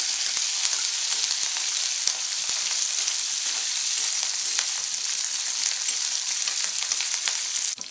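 Curry leaves crackle and sizzle in hot oil as they are stirred, a dense, steady frying hiss holding evenly through the whole stretch with faint scrapes of the spoon and no voices.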